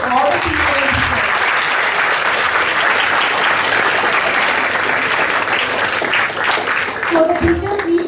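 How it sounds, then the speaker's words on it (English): A school assembly audience applauds the teachers, loud sustained clapping from many hands filling the hall, with a voice briefly speaking near the start and the end. "let's give a big round of applause to all the teachers"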